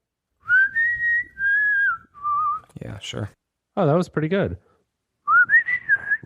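A man whistles the opening melody of a song in sustained, wavering phrases, broken by short spoken remarks from people nearby.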